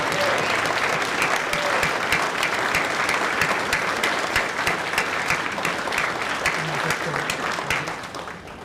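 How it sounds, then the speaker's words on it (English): A crowd at a graduation ceremony claps for the graduates, with sustained applause, sharp individual claps standing out, and faint voices mixed in. The clapping fades toward the end. "Can I get one last round of applause for these incredible graduates?"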